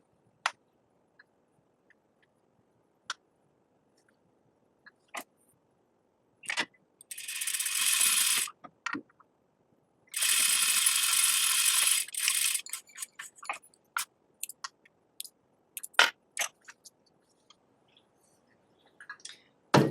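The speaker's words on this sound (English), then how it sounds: "you're gonna do a plain seam all the way down the long edge of it" A sewing machine stitches a plain seam down the long edge of fabric in two steady, whirring runs of a few seconds each, surrounded by scattered quiet clicks and taps in an otherwise silent room.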